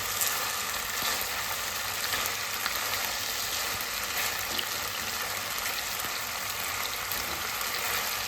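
Spices and meat sizzle and fry steadily in a hot pan, a dense, continuous crackling hiss with no voices, heard close up throughout.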